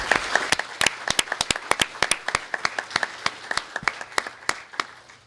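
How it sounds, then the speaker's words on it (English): Applause from a modest audience at a press conference introducing a women's basketball head coach: distinct, crisp individual claps in an irregular rhythm, fairly close and clear, without talk over it. "let's give them a round of applause,"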